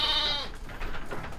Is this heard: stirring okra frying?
no